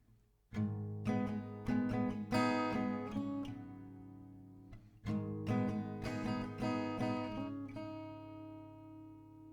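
Acoustic guitar strums the pattern from a song, ringing chords with crisp down-and-up strokes, played close and alone, pausing briefly midway before continuing.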